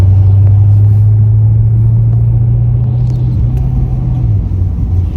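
An engine-swapped Corvette C6 Z06 drives along, a loud, steady low engine drone and road rumble filling the cabin with little change throughout.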